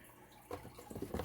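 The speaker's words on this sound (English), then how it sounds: "we're basically just going to fill it up until it's just over the top of the rhizomes" Water pours into a bucket holding broken sections of fresh ginger rhizome, a short faint trickle that swells into splashing near the end.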